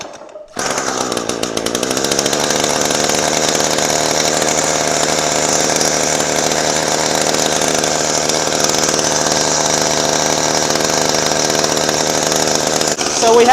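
A Shindaiwa T235 weed eater's small two-stroke engine catches after a short start attempt and settles into a loud, steady high-pitched buzz, close by and running on its own for the rest of the time.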